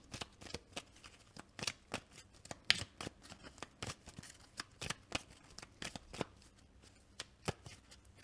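Cards for a tarot-style reading are shuffled close up and quietly, with a run of crisp, irregular riffles and taps in an otherwise calm room and no talking.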